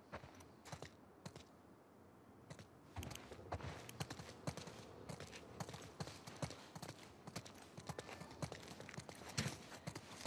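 Horses' hooves clip-clop through snow in The Last of Us Part II, a steady run of close, crisp hoof strikes with scattered clatter and shuffling, and no voices over them.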